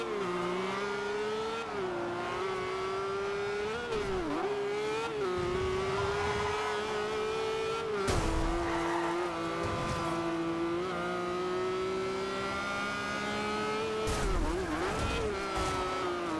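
A race car engine in Forza Horizon 2 drones steadily on asphalt, rising and dipping with gear changes and brief tire noise through a long continuous run.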